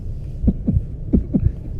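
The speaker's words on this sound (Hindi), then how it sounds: "वो देखो स्पाइक हो रही है, दिल की धड़कन बढ़ रही है।" Heartbeat sound effect during a lie detector test, with two pairs of deep, thumping beats in a steady lub-dub rhythm over a low hum, close and clear, with no talking.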